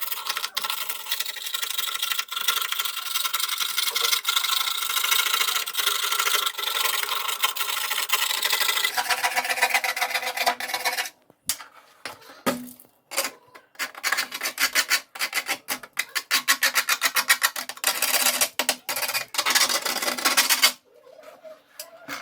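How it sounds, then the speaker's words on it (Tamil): A scraper rasps leftover paint off the rusty metal body of a gas stove in long, continuous close strokes, then shifts to shorter, choppier scrapes with brief pauses, and no one talks. "துரு பிடிச்ச இடத்துல இருக்கிற மிச்சம் இருக்க பெயிண்டையும் சுரண்டி எடுத்துடலாம்"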